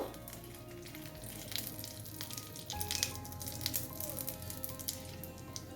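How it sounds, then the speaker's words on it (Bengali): Crushed small cardamom pods and a bay leaf sizzle in hot ghee, with a steady soft crackle and a few faint pops and light clatters close by. "দুটো ছোট এলাচ এলাচগুলোকে আমি থেতো করে নিয়েছি আর একটা তেজপাতা নিলাম এগুলোকে একটু ভেজে নেব"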